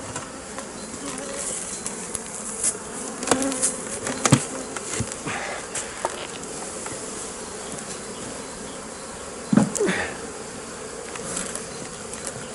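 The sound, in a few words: honeybees buzzing at an opened beehive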